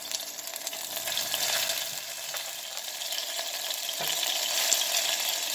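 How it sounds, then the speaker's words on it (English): Sofrito and garlic paste hit hot oil for Puerto Rican stewed beans, crackling into a loud, continuous close sizzle that swells and settles with light stirring. "into the oil, I'm going to add my sofrito"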